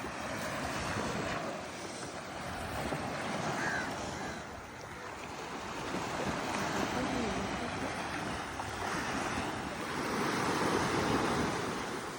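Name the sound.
sea waves on a beach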